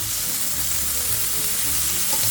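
Thin bacon strips sizzle and fry on a very hot griddle plate at a lakeside campsite, a steady, close hiss and crackle with no voices.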